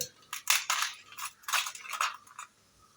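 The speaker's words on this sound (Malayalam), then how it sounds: "ഐസ് ക്യൂബ്സ് പൊട്ടുന്ന സൗണ്ടാണ് കേൾക്കുന്നത്" Ice cubes crack and crunch as they are added while making mango juice, several sharp, close bursts in quick succession with brief pauses between them, no talk over them.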